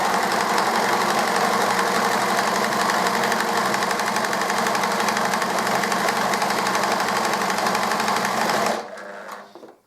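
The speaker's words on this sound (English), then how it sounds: "we're going to sew all the way along this crease" A sewing machine runs steadily and loudly, stitching bias binding along a crease on a fabric pinny, a fast continuous mechanical whir up close that winds down and stops near the end.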